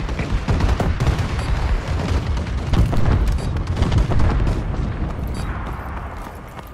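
Dense, heavy explosions from a friendly bombing run in Call of Duty: Advanced Warfare multiplayer Domination, a loud continuous barrage of booms and blasts rolling for several seconds.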